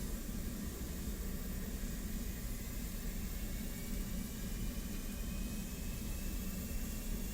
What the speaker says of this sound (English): I'm just getting the jet warmed up here. APU, batteries on, APU's on.